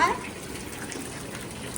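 Water gushes from a tap in a home in Punjab as a steady, moderately loud splashing rush lasting under two seconds, with a brief voice at the start.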